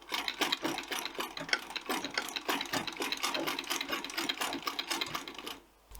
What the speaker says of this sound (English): You can use your hands or your foot pedal and basically sew away without any power required.